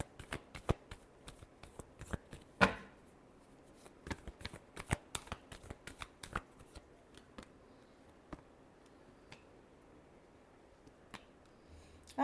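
Tarot cards are shuffled by hand in a quiet room, a run of crisp riffles, slaps and flicks in an uneven rhythm, close and clear, with one louder ruffle early on and no talking.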